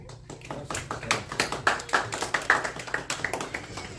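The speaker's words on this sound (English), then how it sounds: "Everyone give a huge round of applause again" A community safety meeting audience breaks into brisk applause, a dense run of overlapping hand claps that swells and holds steady for several seconds, fairly close.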